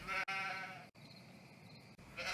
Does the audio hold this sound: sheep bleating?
yes